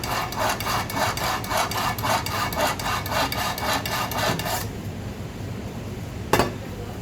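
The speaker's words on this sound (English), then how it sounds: "So first thing we need to do is sharpen the knives." Kitchen knives drawn repeatedly through a knife sharpener while preparing a leg of lamb, a rapid rhythmic scraping of metal that runs for several seconds, then stops, followed by a single sharp clack.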